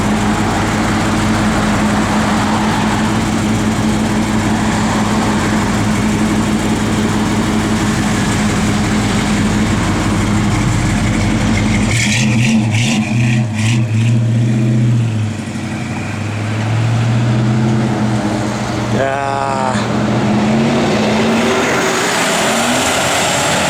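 A 1969 Dodge Charger R/T with its matching-numbers 440 V8 and 4-speed gives a steady, close, loud engine rumble for about twelve seconds, then the tone shifts and quieter passing traffic takes over.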